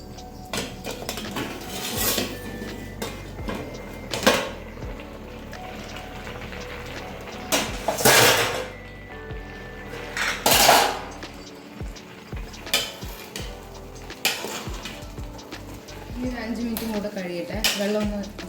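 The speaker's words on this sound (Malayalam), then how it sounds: "ദം വെച്ചത് ഒന്ന് തുറന്ന് നോക്കാം" Lid and weight lifted off a pot of Palakkad-style dum beef biryani, with a series of close metallic clanks and scrapes spread over the stretch and intermittent talk between them.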